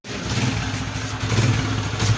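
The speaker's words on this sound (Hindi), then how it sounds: "ये अभी हमने बाइक स्टार्ट किया है।" A Honda CG 125 motorcycle engine, one with a clutch box noise problem, runs steadily after starting. Its low, throbbing idle sounds close and continuous, with slight surges in loudness partway through.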